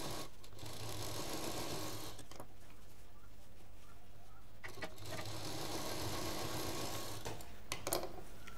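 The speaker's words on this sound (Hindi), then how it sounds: "और अब ये साइड का सिल देंगे।" A sewing machine stitches the side seam of a square sling bag, running in steady whirring bursts with short pauses between them, close and fairly loud.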